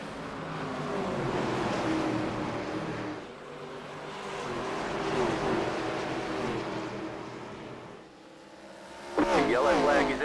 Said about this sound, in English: Let's hear these engines roar loud and proud